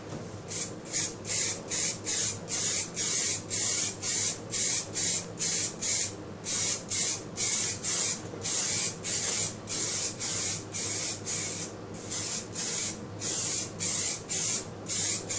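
Repeated short bursts of hissing spray paint on electric-vehicle battery cells, a rhythmic series of quick sprays with brief gaps, close and steady throughout.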